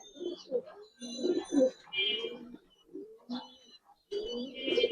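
Giribaz pigeons coo in short, separate throaty bursts broken by pauses, close by and fairly soft.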